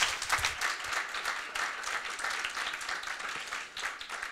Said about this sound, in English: now give them a big applause